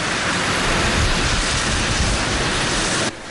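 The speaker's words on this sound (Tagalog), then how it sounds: "nakaramdam ng tuloy-tuloy na pag-ulan ang Tuguegarao maging sa Apari" Heavy typhoon rain pours steadily in Tuguegarao City, Cagayan, a dense, loud, continuous roar of water that drops off sharply near the end.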